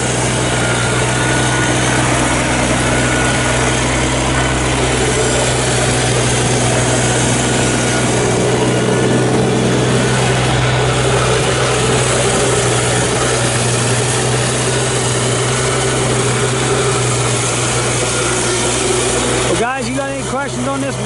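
A 2015 Kubota BX2750B compact tractor runs steadily with a snow blower attached, giving a continuous loud engine drone throughout. Brief voices come in near the end.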